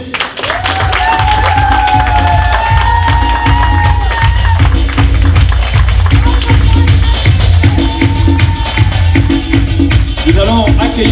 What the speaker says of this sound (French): je vous prie de leur réserver un tonnerre d'applaudissements